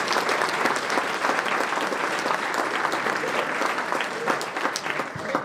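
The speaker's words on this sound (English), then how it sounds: "So please give Jess a round of applause as he comes forward." A luncheon audience at the Cheyenne Chamber's Circle of Champions event breaks into steady, dense applause that fills the room for several seconds without pause.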